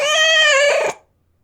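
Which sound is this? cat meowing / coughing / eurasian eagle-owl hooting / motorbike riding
cat meowing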